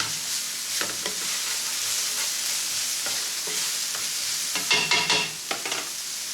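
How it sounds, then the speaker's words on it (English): Chopped onion sautés in a pan for stuffed zucchini, giving a soft, continuous sizzle broken by repeated light scrapes and clicks of a utensil stirring, busier toward the end. "We're going to cook these for a few minutes until the onion is translucent and starts softening"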